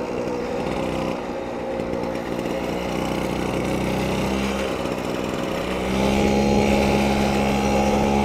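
A Motoconfort AV89 moped engine buzzes steadily and loudly while being ridden, its two-stroke drone holding level before rising in pitch and volume near the end.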